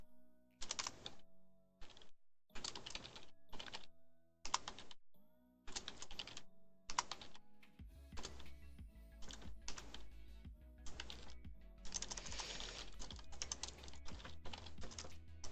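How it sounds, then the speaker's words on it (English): Rapid typing on a computer keyboard during a programming session, delivered in bursts of clattering keystrokes separated by short pauses, close and clear, with a low steady hum underneath in the later part. "I'm great at typing, I promise."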